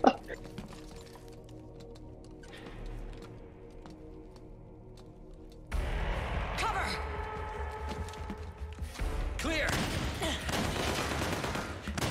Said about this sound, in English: They were shooting.